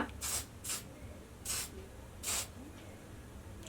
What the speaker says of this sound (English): All I'm going to do now is spray my hair.